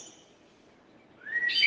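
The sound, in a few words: birds chirping in the morning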